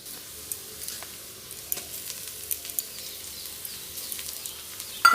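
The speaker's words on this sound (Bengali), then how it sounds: "এখন আমি রসুন বাটাটা দিয়ে দিয়েছি" Garlic paste fries in a hot pan in a home kitchen with a steady, close sizzle, dotted with small pops and scraping stirs, and a brief louder clatter at the very end.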